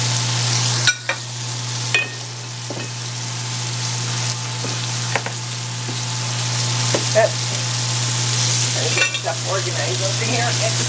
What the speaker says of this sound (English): And then you wanna cook those spices.